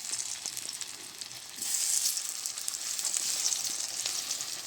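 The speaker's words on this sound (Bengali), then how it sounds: "এভাবে কলার মাছগুলো ভেজে নেব" Hot oil sizzling steadily in a karahi over a wood-fired clay stove as plantain pieces fry, a bright continuous crackle that swells louder partway through and stays close.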